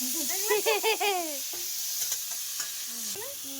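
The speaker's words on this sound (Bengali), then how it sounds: "এবার দেখবে তেলটা ছিটকাবে কেমন।" White mustard seeds spatter in hot oil for chutney with a continuous crackling sizzle, while voices exclaim loudly over the frying.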